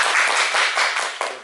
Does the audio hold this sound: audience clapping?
yes